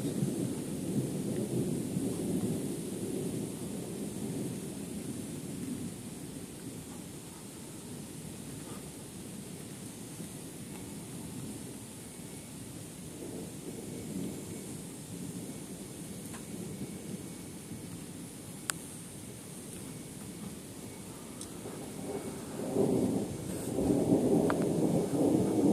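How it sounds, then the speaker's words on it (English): A thunderstorm rumbles with long rolling thunder over steady rain, the low thunder swelling again loudly near the end, with no voices. "thunderstorm"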